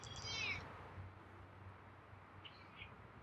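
A feral cat gives one clear, close meow, followed by a fainter chirping call a couple of seconds later against a low, steady background hum.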